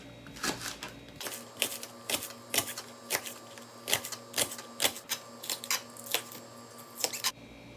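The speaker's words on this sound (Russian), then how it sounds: "Его нарезаем кружочками маленькими." Knife chopping green onion into small rings on a cutting board, a quick irregular series of sharp dry taps heard up close and alone.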